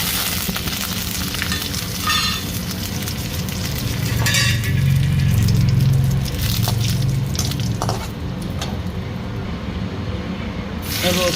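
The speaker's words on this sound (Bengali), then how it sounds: "তেল গরম হয়ে গেছে, তেলে দেবো জিরে, শুকনো লঙ্কা, তেজপাতা, সাথে কড়ি পাতা।" Cumin seeds, dried chili, bay leaf and curry leaves sizzle in hot oil for a drumstick dal, a loud, continuous crackling fry with occasional stirring scrapes, no voices.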